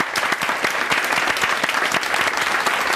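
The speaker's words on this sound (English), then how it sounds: "every single one of those women up there deserves so much applause" Dense, sustained applause from a television talk show studio audience, continuous and fairly loud throughout with no talk over it.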